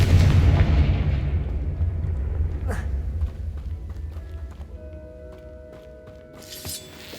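A fiery Confringo spell blast in the Hogwarts Legacy video game, with a heavy, rumbling explosion at the start that fades over several seconds, then a few lighter magical chimes and a sharp burst near the end.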